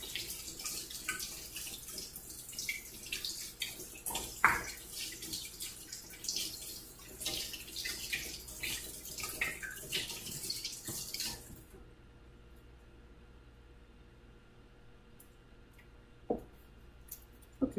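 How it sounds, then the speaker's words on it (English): Tap water runs while hands are washed at a kitchen sink, a soft splashing stream for about twelve seconds before it shuts off, leaving near quiet with a few small clicks. "I already washed mine, but I'm going to wash them again."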